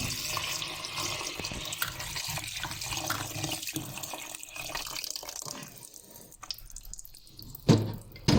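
Strawberries are rinsed under a running kitchen tap, a continuous splashing water flow with a few louder knocks near the end.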